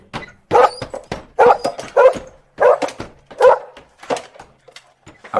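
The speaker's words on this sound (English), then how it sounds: "A passer-by heard the barking and stopped in surprise." A dog barks repeatedly in short, loud bursts at an uneven pace, close by, with a few whiny yips mixed in.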